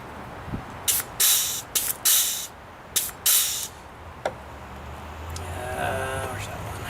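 Aerosol grease sprayed onto mower parts in several short bursts of loud hiss with brief pauses between, followed by quieter clinking and rattling of handled parts.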